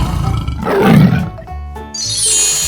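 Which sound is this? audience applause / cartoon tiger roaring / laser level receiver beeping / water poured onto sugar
cartoon tiger roaring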